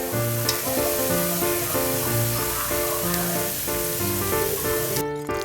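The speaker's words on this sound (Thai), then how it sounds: "วันนี้ผมมีมื้อเย็นเป็นปลาทับทิมทอด และนี่ก็คือเสียงแห่งความกรอบ" Red tilapia deep-frying until crisp, a steady dense sizzle and crackle running the whole time beneath loud background music.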